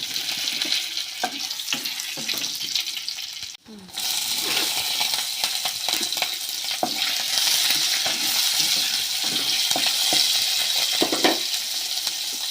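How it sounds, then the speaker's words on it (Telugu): Chilies and curry leaves frying in a pan, a continuous loud sizzle broken by frequent scraping and clinking strokes of a stirring spoon, with one brief dropout partway through. "ఈ విధంగా మాడిపోకుండా కలుపుకోవాలా. మిరపకాయ, కరివేపాకు,"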